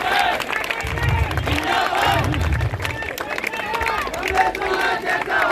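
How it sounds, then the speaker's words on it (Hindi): A large crowd at a political rally cheers and claps in welcome for Kamal Nath, a dense roar of voices and applause filling the space, loud and continuous. "जोरदार तालियों से कमलनाथ जी का स्वागत करें।"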